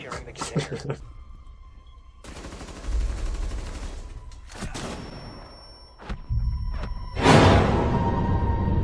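Gunfire in the video game Rainbow Six Siege comes in several loud, sharp bursts and thumps, with a sustained rattle toward the end over a busy game background.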